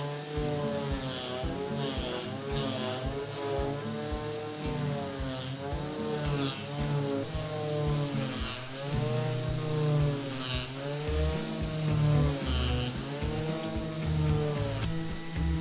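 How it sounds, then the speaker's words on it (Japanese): An electric sander grinds across the underside of a large monkeypod wood slab with coarse 120-grit paper, a loud, steady motor whine with wavering pitch that runs continuously throughout, with no talk. "それではサンダーをかけていきます。 まず裏面からかけていきます。 120番の粗いペーパーで削っていきます。"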